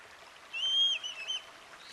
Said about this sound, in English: Young birds, however, do what I call the begging call.